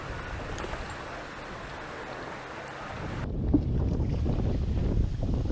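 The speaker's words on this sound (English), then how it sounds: "Unfortunately, the wind is just too strong" Strong wind rushes across the River Yare, buffeting the microphone with a steady roar that grows heavier and deeper partway through, with water and boat noise mixed beneath and no voices.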